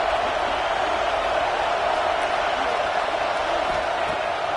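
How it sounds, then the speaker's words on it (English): Steady stadium crowd roar from an NCAA college football video game, a dense continuous wash of cheering and noise holding at an even level throughout with no pauses. "This crowd bringing the energy and noise early."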